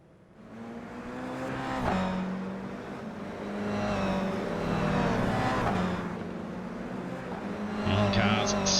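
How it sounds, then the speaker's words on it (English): Several Toyota GR86 race cars in iRacing rev and accelerate out onto the Phillip Island track, engines rising and falling in overlapping, moderately loud tones beneath continuous commentary. "And cars scrambling out onto the track."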